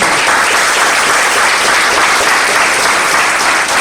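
An audience at a hall meeting breaks into applause, a loud, dense and continuous roar of many hands clapping close by without a break.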